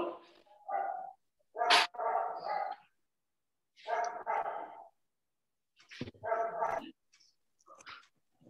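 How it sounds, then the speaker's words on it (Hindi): A dog barks somewhere nearby during an online biology class. Short, sharp barks and yips come in a few separate bursts, with silent gaps between them. "सर कुत्ता कहाँ भौंक रहा है?"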